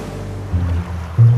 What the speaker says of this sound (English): the sea